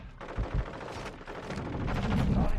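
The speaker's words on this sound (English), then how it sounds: "Where are you shooting from?" Gunfire in the Modern Warfare 2 beta, with a steady stream of automatic shots and distant pops over a dense low rumble that builds slightly toward the end.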